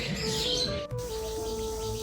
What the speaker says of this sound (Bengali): এই যে পাখিগুলো কি কিচিরমিচির ডাক